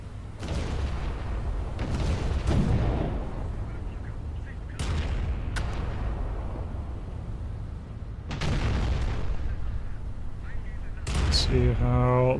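Heavy battleship main guns in a naval combat game boom in several separate salvos, each a loud, deep blast with a long rumbling tail, spaced a few seconds apart.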